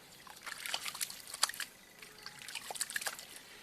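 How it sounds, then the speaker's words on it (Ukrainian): Hands being washed in water, with soft splashing, trickling and dribbling that comes in two bursts, close and fairly quiet, with no talk. "Ми миємо руки у воді."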